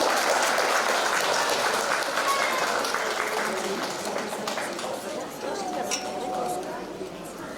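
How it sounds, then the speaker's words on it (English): Steady applause from a crowd at an autism awareness programme in Arunachal Pradesh, dense and continuous, gradually fading slightly toward the end. "can we have a big round of applause"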